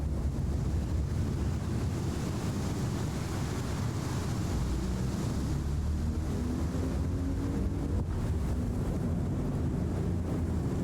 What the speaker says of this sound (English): Can barely hear the engines over the wind.